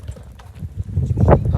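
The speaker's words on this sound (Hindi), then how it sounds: "यहाँ से घोड़ा लेंगे जी और वो उधर जाएंगे जी" Horse hooves clip-clop on a mountain trail near Ratti Gali in Kashmir, a close, uneven run of dull thuds with indistinct voices murmuring underneath.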